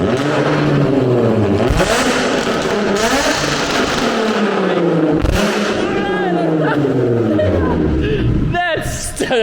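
Car engine with a Tomei exhaust, revving hard with rising and falling pitch, loud and close, with people talking and exclaiming over it throughout.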